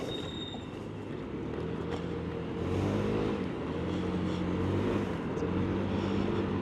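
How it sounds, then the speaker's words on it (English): Road traffic rumbles past a scooter rider on a Cannonball run, a loud, continuous low roar of passing vehicles that swells midway and stays heavy, with no talking. "Oh boy, stupid traffic."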